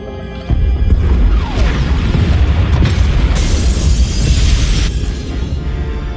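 Pod bays explode in Star Wars: The Old Republic with a sudden, loud, booming blast, followed by a long roaring rumble with crashing, shattering debris that stays loud for several seconds.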